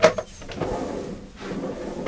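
A self-closing kitchen drawer in an Etrusco T6900 SB 2021 motorhome slides and pulls itself shut, a short soft rolling glide ending in a quiet thud, close by and alone.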